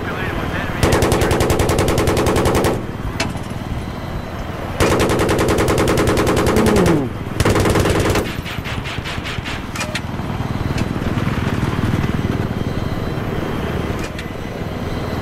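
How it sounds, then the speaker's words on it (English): A 30mm helicopter cannon in Battlefield 3 fires long, rapid bursts, loud and close, over the whir of the helicopter engine. A swooping tone comes in mid-burst, and the rotor and engine drone go on after the firing stops. "The sound of the 30mm in this fucking gun, or in this game, is just so sick."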